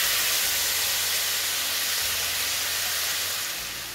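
Butter garlic mixture poured over fried potatoes sets off a loud, steady hissing sizzle that starts at once, stays strong and fades slightly near the end, close up with no talking.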